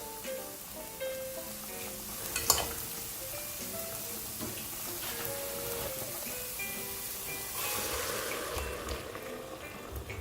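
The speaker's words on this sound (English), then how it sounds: "So once the mushrooms are well fried, there's no more liquid." Mushrooms fry in a pan for a soup, a soft, steady crackling sizzle heard fairly close, with a brief louder clatter early on and a swell of hiss near the end.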